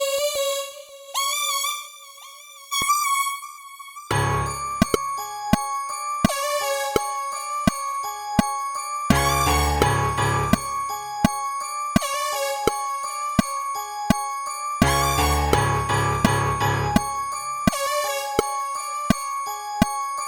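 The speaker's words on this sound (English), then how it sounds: "This sound is called Saw Stack 2." A Saw Stack 2 synth preset from the Expand plugin plays sustained bright chords and notes, joined by pulsing bursts and regular percussive clicks in a looping pattern, clear and alone.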